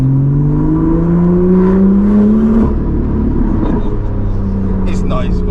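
A BMW M2 engine revs and pulls under load while driving, rising whine and deep rumble climbing in pitch, then a gear change drops the tone before it settles; loud and close.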